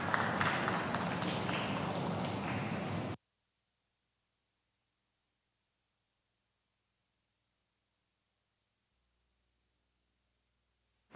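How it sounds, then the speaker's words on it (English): Audience applause at a fintech conference greets pitch presenters, a loud crowd of clapping hands for about three seconds that cuts off abruptly into near silence. "A round of applause for them."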